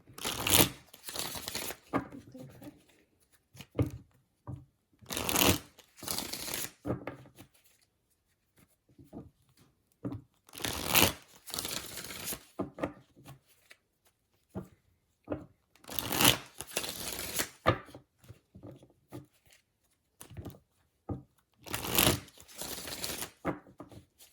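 Tarot cards being shuffled in repeated bursts, each riffle a quick crisp flutter, separated by quieter pauses and soft handling noises, close up.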